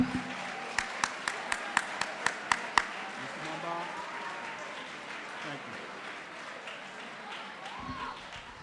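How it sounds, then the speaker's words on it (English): Students at an 8th grade awards ceremony clap in a short burst of sharp, evenly spaced claps at the start, then settle into a softer patter of applause and murmuring crowd noise, with some talk underneath. "Give yourself a hand of applause."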